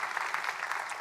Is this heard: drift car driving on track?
no